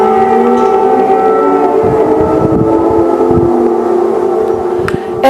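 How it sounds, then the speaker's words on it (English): Air raid sirens sound across Kyiv during a Russian air attack, a loud sustained wail of steady overlapping tones that holds for several seconds, with low rumbling noise beneath. "Air raid sirens rang across Kyiv earlier today"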